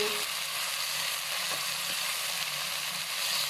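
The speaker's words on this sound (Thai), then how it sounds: "มารวนให้หอมก่อนนะคะ" Pounded chili, garlic and shrimp paste stir-fried with a little sugar in a pan over low heat, a dense, even close-up sizzle with a few light stirring clicks throughout.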